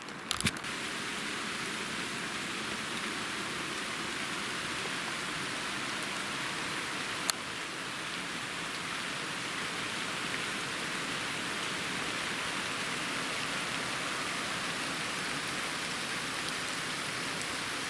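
Rain falls steadily on the cedar forest of the Altai mountains, a dense, even hiss of drops close around with no voices, broken only by a couple of faint knocks.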